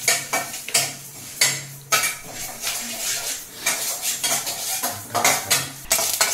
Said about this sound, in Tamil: எள்ளு வந்து பொரியுது பாருங்க.